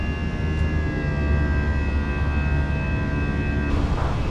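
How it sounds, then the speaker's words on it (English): Fenix A320 jet engines at climb thrust in Microsoft Flight Simulator 2024 drone as a steady, loud cabin roar with a sustained whine, plus a brief rushing swell near the end. "Let's go throttles to climb."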